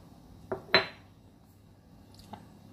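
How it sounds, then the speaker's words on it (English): Homemade rice powder soap being mixed with coconut powder in a bowl: two quick clinks of a utensil against the bowl, the second louder, then a faint tap near the end, with no one talking. "I'll be mixing it now"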